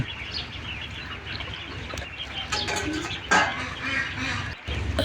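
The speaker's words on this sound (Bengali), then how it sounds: "হাঁসের বাচ্চাগুলো কি সুন্দরভাবে খেলাধুলা করতেছে" Young ducklings on a duck farm splash and play in water, calling and quacking in scattered bursts nearby over a busy background of splashing, with louder squawks near the end.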